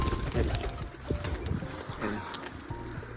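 Pigeons coo in low, rolling bursts amid clattering and shuffling close by, with people talking in the background.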